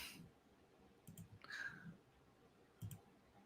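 A computer mouse gives a few faint, sparse clicks at a quiet room level, spaced irregularly with light breathing and small background noises between them.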